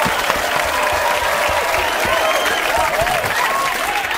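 Studio audience at a punk band's talk-show appearance breaks into sustained, dense applause with some whoops and cheers, steady and loud throughout.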